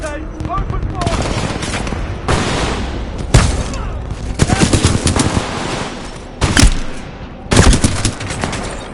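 Dense automatic gunfire in Titanfall 2, facility security opening up on a Titan, with loud sustained bursts and several heavy impacts and booms, layered over voices talking.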